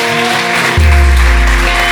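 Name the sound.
congregation applauding in church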